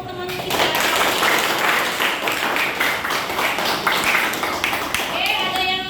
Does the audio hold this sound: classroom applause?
yes